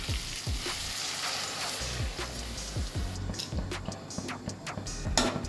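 Steady bubbling and sizzling of water boiling in a pan for palak dal khichdi, continuous and fairly loud, with scattered small pops and clicks throughout.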